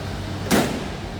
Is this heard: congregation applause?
no